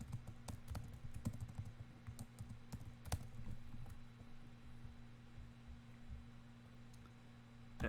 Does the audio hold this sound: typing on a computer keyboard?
yes